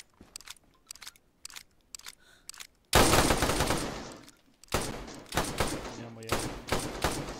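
Rapid gunfire bursts in the survival game DayZ, loud and dense for several seconds after a quieter stretch of scattered clicks, with someone speaking briefly.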